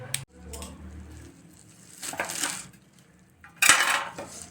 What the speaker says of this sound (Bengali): এখন আমি কেটে নেব।